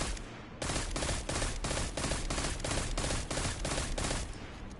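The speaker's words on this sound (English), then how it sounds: "Let me just go center on target and I'll just keep shooting." Weapon fire in the video game Destiny 2: a loud, steady string of rapid shots in regular bursts, close and continuous for several seconds with brief gaps between volleys, with no talking over it.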